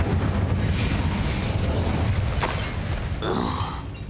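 Incendio fire spell cast in Hogwarts Legacy, a dense roaring whoosh of flame over a low rumble, followed by a short crackling burst near the end.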